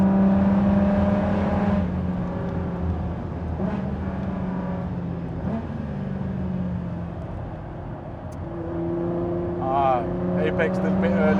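The V6 engine of a Ford GT, heard from inside the car on the Nürburgring. It gives a droning exhaust tone that rises and falls through the gears under steady conversation between the occupants.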